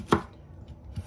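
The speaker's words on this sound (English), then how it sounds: "this onion to slice in two, because we're just going to cut them big" Knife cutting an onion in two on a board while preparing spicy chicken feet, one sharp chop followed by a softer second tap.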